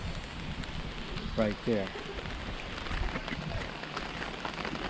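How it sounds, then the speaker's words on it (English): Monsoon rain falls steadily outdoors in Thailand, a continuous hiss of drops on surfaces heard close around, with a person speaking briefly partway through. "because it's still raining"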